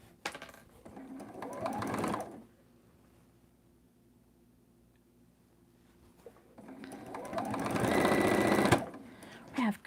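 Sewing machine stitching a mini quilt block, two bursts of rapid mechanical whirring and needle clatter separated by a quiet pause, with faint talk underneath.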